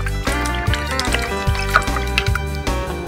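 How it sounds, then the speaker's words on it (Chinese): Clean water is poured over raw pork ribs in a bowl as they are washed for papaya pork rib soup, a close, continuous splashing and dripping with small sloshes throughout. "再倒入清水洗净"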